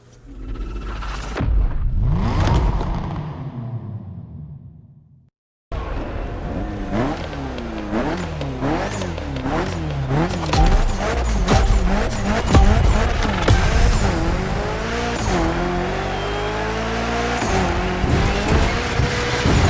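A Mitsubishi Lancer Evolution IX in The Crew Motorfest gymkhana event: a brief engine note cuts out, then loud continuous revving with rising and falling gear pulls, tire squeal and skids through drifts, with no talk.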